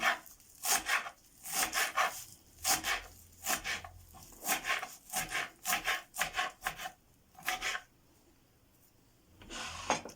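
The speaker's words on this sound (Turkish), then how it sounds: "Bunu da küçük küçük doğrayalım." A knife chops parsley rapidly against a cutting board in quick bursts, pausing briefly before a final few strokes.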